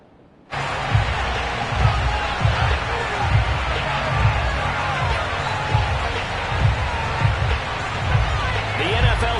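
A football stadium crowd in an EA Sports NFL game roars steadily, a broad constant wash of cheering with rhythmic thumps, loud and sustained after a sudden start, with commentary over it.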